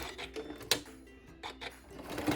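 A sewing machine stitches a quilt name tag in quick bursts of rapid needle chatter, each run stopping and starting, close up and fairly loud.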